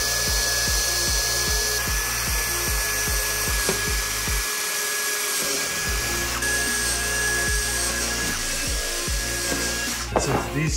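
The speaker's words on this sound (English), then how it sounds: "you start drilling these little dimples all over the place" A drill grinds in repeated short pulses with a steady high whine, close up, pausing briefly before resuming, as it drills dimples into a C8 Corvette body kit panel.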